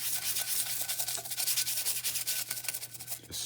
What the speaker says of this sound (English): just scrub it just like you're detailing a car.